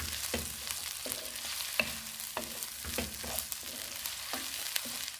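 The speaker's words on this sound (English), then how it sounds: "I'm going to add my sardine, the oil, to it. And stir very well." Sardines and their oil being stirred in a hot pan make a low sizzle under repeated rhythmic scrapes and knocks of the spoon, about one every half second.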